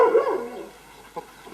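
A farm dog on a French livestock farm gives a short burst of barking and whimpering at close range, followed by quieter rustling and one brief yelp.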